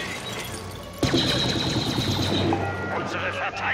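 Rapid gunfire bursts in a shooter video game, compared with Call of Duty, erupt suddenly after a quieter opening and continue as dense overlapping shots, with a voice talking over them.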